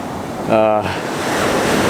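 Ocean waves wash steadily onto Luskentyre Beach on the Isle of Harris, a loud, continuous surf roar with wind buffeting the microphone and a brief voice near the start.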